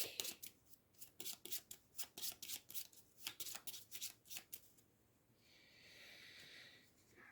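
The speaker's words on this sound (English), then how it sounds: "Shuffle my deck." A deck for the Hour of Need card game is riffled and shuffled in a quick run of about a dozen crisp flutters, close up, then a softer brushing sound.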